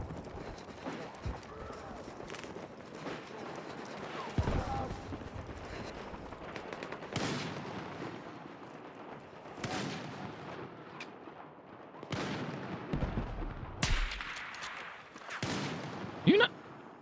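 Mortar shells pound away in a military shooter game, heavy booming impacts landing every couple of seconds amid constant battlefield noise and scattered gunfire, with a voice talking over parts of it.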